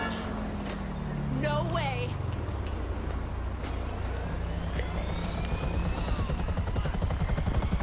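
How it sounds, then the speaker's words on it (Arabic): Aircraft engine roar in GTA V, a steady droning hum with rising whine tones, while someone talks over it throughout. "بص هطير بيها الطيارة دلوقتي."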